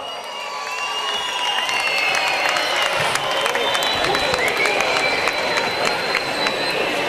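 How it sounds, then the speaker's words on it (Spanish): A crowd at the 2016 Leganés festival opening breaks into steady applause and cheering, dense clapping sustained throughout with whistles rising above it. "¡Un aplauso!"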